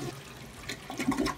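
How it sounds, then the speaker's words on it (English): A hotel toilet flushes with a rushing surge of water that swells louder toward the end, close by and alone. "That's coming from the fucking toilet."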